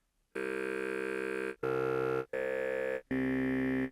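Four sustained synth tones in a row from a looped vocal sample, each a steady harmonic note at a different pitch, separated by brief gaps, with no voices.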